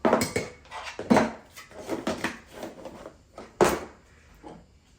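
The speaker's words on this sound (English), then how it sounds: "we're just gonna mix our dry ingredients together" A series of close scraping, clinking strikes as cocoa powder, salt, baking powder and baking soda are stirred together in a bowl, coming in irregular bursts with short pauses between them.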